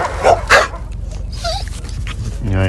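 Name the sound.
dog whimpering at animal shelter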